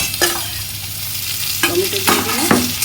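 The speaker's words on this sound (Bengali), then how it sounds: "এবারে পেঁয়াজ ভাজছি, এবার টমেটো দিয়ে দিলাম" Onions and tomato fry in a pan under a steady sizzle, with several close scraping stirs of a spatula at irregular intervals.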